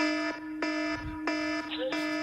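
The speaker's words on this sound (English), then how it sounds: "Would you mind, Darren, if instead of the buzzer you got the Elliot Davis ringtone?" An electronic phone ringtone plays nearby: bright, buzzy tones repeat in a regular on-off pattern, with no talking over them.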